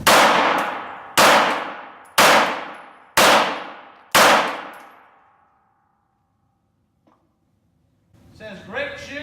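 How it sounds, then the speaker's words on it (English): Five live handgun shots ring out at an even pace, each a sharp crack with a long echoing decay, followed by a few seconds of silence and a brief voice. "I'm going to make this gun hot, and we're going to fire 5 shots."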